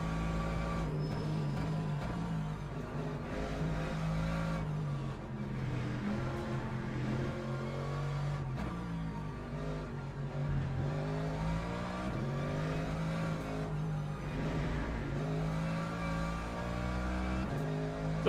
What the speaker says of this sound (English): Look at how quick that Porsche is going.